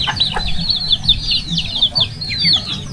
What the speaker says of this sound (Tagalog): Ako po muna yung magpapaka ng mga alagang manok